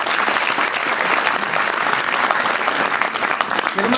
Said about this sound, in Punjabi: ਸਭ ਤੋਂ ਪਹਿਲਾਂ ਜ਼ੋਰਦਾਰ ਤਾੜੀਆਂ ਸਾਰੇ ਵਿੱਚ